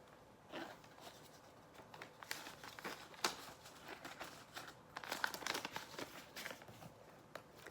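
Paper cash and envelopes are shuffled and handled up close, with soft crinkling rustles and papery flicks coming in irregular bursts, quiet and unaccompanied by talk.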